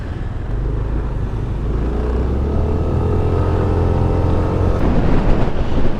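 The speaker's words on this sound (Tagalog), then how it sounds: "Ang dami na sasakyan." Dense road traffic of many vehicles at night in Lipa, Batangas, heard as a steady, continuous engine drone with low rumbling and passing motors, no voices.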